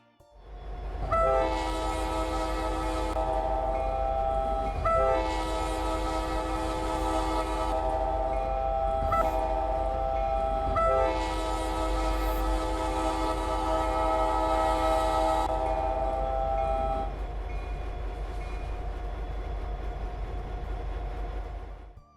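GP59 locomotives in the Roblox Ro-Scale train game sound a loud multi-chime horn in several long blasts over a constant low engine rumble, with no voices.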